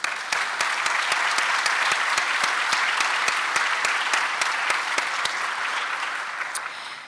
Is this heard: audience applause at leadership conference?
yes